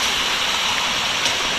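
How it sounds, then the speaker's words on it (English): A river near Grenada's waterfalls rushes in a steady, dense hiss of flowing water, close and fairly loud, with no voices over it. "River."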